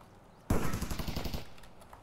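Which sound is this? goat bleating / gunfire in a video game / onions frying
gunfire in a video game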